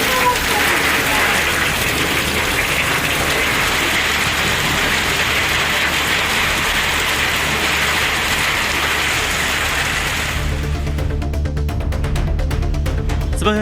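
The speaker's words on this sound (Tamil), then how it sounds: "பலத்த காற்றுடன் அரை மணி நேரத்திற்கு மேலாக கனமழை கொட்டி தீர்த்தது" Heavy rain pouring down with strong wind, a dense continuous hiss of downpour, near and loud, shifting near the end to a rumbling engine-like drone as the rain noise drops away.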